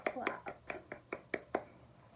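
Hands scrunching and clapping wet hair after product is rubbed in, seven or eight soft, close, wet slaps in an even rhythm, quiet and alone.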